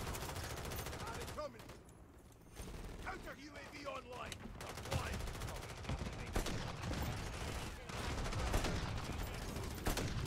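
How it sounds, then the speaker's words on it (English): Call of Duty gunfire rattles off in loud, rapid bursts as shots hit a wall, with repeated volleys and short pauses between them, plus other game noise in the background. "I shot the wall instead of that person."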